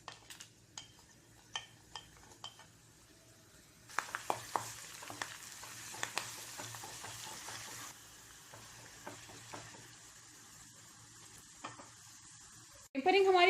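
Cumin, dried red chillies, crushed garlic and curry leaves hit hot oil for a Hyderabadi khatti dal tempering, starting with a few faint taps and then bursting into a bright, steady sizzle that fades slightly before a loud clatter at the end.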